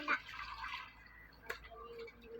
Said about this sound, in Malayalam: ഒരാളിവിടെ വെള്ളത്തിൽ ഇരുന്ന് കുളിക്കുന്നു